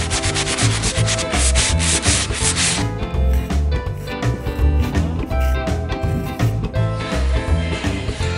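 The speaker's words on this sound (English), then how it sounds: "I'm gonna sand it down and then I'm gonna put putty on it." Sanding a wall to smooth patches where wallpaper tore away before putty goes on, a loud, continuous rasping rub with steady rhythmic strokes close by, no talking.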